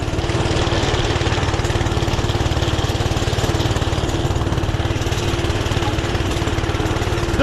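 A Doodle Bug mini bike's small engine runs steadily at high revs with a loud, rapid, even pulsing drone throughout, close by and with no voices over it.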